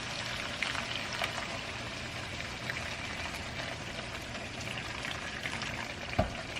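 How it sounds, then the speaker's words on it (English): Hot water poured into a slow cooker pot for Jamaican-style stew pork, a continuous bubbling, splashing rush that stays fairly steady throughout with a faint clunk near the end. "we're going to add just a little bit of hot water"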